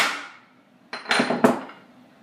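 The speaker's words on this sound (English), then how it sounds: "here's my hammer, and just hold it straight and just hit it one time." Three sharp metallic strikes from a hammer on a galvanized metal tray ring out close by after a fading resonance, the second and third blows coming in quick succession.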